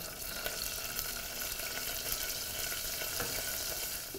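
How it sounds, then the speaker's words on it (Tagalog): Lemon rind and chili gently sizzle in olive oil in a pan, a steady, even crackling hiss with soft pops, fairly close and continuous without talk. "the rind and the chili will just cook together with the olive oil"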